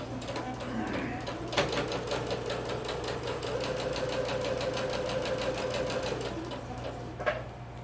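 A sewing machine back stitches across the top of a skirt pocket, a steady rapid mechanical whir with sharp clicks at the start and near the end, running close and continuous for several seconds.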